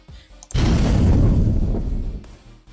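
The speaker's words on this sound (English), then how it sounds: "And that's the sound when the fire starts." Roblox Studio explosion barrel fire starting sound effect: a sudden loud burst with a deep rumbling, crackling roar lasting about a second and a half before cutting off, alone with no talk.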